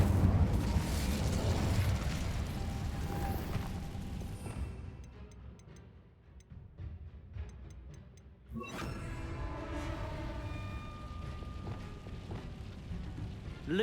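Incendio fire spell cast in Hogwarts Legacy on PS5, booming fiery bursts and crackling blasts that fade to a quieter stretch before another loud whooshing eruption with lingering magical tones.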